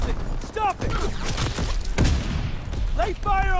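Dense WWII-era gunfire in Call of Duty: WWII, a steady wash of rifle and machine-gun shots and dull booms under shouted soldier voices, with a German tank advancing nearby.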